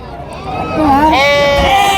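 Sheep bleat loudly and close by at a crowded sheep and goat market in Gudur, Nellore, before Bakrid, with long wavering cries rising and overlapping against a steady background of market noise.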